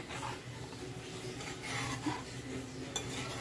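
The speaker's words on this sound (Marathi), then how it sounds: "ढवळत राहायचं आहे" Quiet, continuous scraping and rubbing of a spoon stirring tomato curry in a pot, with a couple of light metallic taps.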